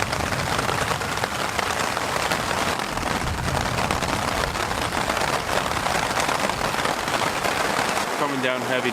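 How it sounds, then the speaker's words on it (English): Heavy rain from a storm pours down at a Quetico wilderness campsite in a dense, continuous roar, hammering on a surface with no letup; a voice speaks briefly near the end. "Coming down heavy now."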